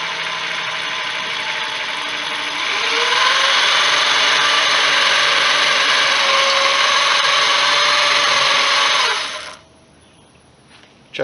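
Bigger power drill boring through the metal of a zero turn mower draw bar tow hitch, a loud steady whine and grinding that builds slightly and runs about nine seconds before stopping abruptly, close by with no talking.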